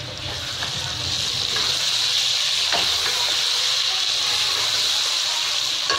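A spoonful of cumin seeds hits hot oil with whole spices for chana biryani, giving a steady, bright hiss and sizzle that holds evenly from start to finish, close and moderately loud, with a few faint clicks.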